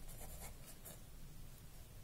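Close scratchy strokes of writing on paper during a class 8 rational numbers math lesson, a short continuous burst of pen movement with faint rhythmic scrapes.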